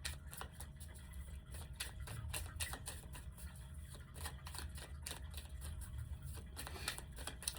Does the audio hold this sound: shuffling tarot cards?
yes